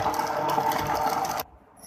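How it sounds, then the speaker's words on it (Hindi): A mixer grinder blends falsa berry sharbat with ice in a steady, loud whirring burst that cuts off abruptly after about a second and a half, leaving near silence. "अब ये मैं इसको बंद करके दोबारा से एक दफ़ा ग्राइंड कर दूंगी"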